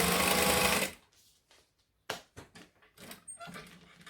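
A sewing machine stitching fabric for a cabin bag runs in a loud, steady buzzing burst for about a second and then stops, followed by scattered clicks, thumps and handling noises from fabric and parts. Nobody speaks.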